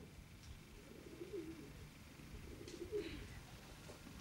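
Pigeons cooing nearby, two soft rolling coos a couple of seconds apart over a low background hum.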